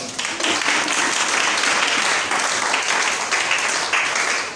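Congregation at a French-language evangelical Sunday service applauding in praise, a loud, dense, continuous wash of clapping and cheering that stays steady throughout.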